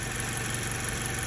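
A warmed-up car engine idles with a slight misfire during an ignition analyzer test, a steady broadband rumble and hum heard close, with no voices.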